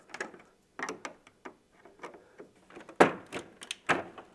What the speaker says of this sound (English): So you're just going to want to remove these screws.